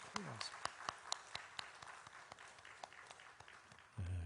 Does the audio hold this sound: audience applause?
yes